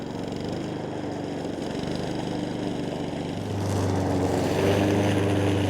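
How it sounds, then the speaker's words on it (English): A push lawn mower engine drones steadily and close, its tone shifting and growing slightly louder partway through. "We are having issues with our push lawnmower for some reason, so he decided to take over and do that"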